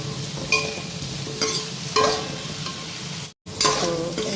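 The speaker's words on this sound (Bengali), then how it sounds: "এই দেখো আলু ভাজা হয়ে গেছে, একটু জাস্ট লাল করেছি" Potatoes fry in a hot pan with a steady sizzle, while a spatula stirs them in a series of scraping strokes roughly every second.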